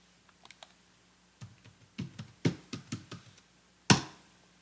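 Short bursts of keystrokes on a computer keyboard while entering a Linux command, light clicks at first, then a louder run of taps ending in one sharp hard key press, close and quiet with no talk.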